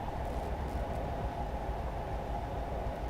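Continuous low rumbling of a shaky train running along the rails, close and steady for the whole stretch with no voices.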